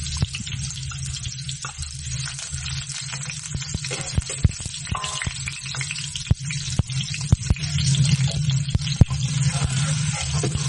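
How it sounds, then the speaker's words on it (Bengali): Chilies and onions fry in a hot pan for a noodle dish, a steady loud sizzle broken by sharp scrapes and clicks of stirring, with no talk over it. "যতক্ষণ না ভাজা হয় ততক্ষণ একটু নাড়তে থাকবেন"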